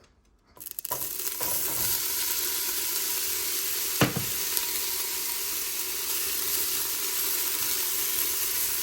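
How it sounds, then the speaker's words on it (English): Jalapeño and garlic sautéing in a pan for albondigas soup, a steady broad sizzle and hiss that starts abruptly and holds evenly, with one brief clank partway through, close and continuous. "We're going to go ahead and saute that and the jalapeno and garlic in the pan before we do anything else."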